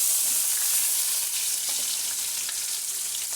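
Onions frying in a pan during Telugu home cooking of dondakaya chana dal fry, with cumin already added; a steady, close hiss of sizzling oil with faint stirring clinks, no talking.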